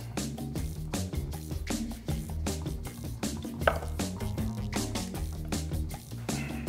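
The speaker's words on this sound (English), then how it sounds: "just chop the meat up" Tender tequila-braised short rib meat being chopped with a knife, a run of quick, close, soft thuds and knocks on a board, mixed with light wet squishing and faint background music.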